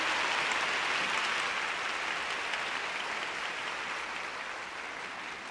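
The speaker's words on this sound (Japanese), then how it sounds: "皆様大きな拍手をお願いいたします。" Audience applause fills a figure skating exhibition arena: dense, steady clapping from a large crowd that slowly tapers off, with no voices over it.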